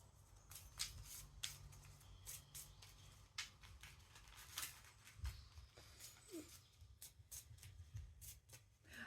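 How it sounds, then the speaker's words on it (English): Tarot cards are shuffled by hand in a quiet room, giving a steady run of soft, close riffling flicks and papery slaps for several seconds, with no talking. "Because I'm shuffling these cards and I'm getting frustrated with the cards because nothing's coming out."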